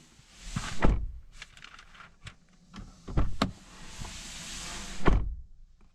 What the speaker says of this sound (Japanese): でドア閉めた音はこんな感じ。